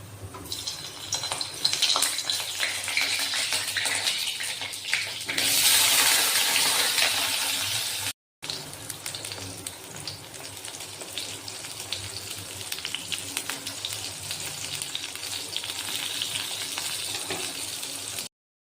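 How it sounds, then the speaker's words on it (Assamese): Eggplant frying in a pan gives a loud, continuous crackling sizzle close by, swelling briefly and broken by a short cut partway through, with no one speaking. "এতিয়া বেলেগ নবনাওঁ আৰু বেঙেনাই ফ্ৰাই কৰি দিওঁ।"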